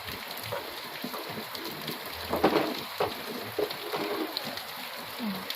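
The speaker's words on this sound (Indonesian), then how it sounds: "Turun dari motor langsung hujan." Steady rain patters on a surface, a continuous hiss broken by scattered heavier drops, with no talking.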